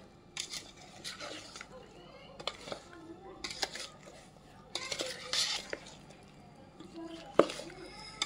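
Instant pickle ingredients being mixed in a bowl, with repeated clinks and scrapes of a spoon against the dish in irregular bursts, close by, alongside soft, intermittent talk.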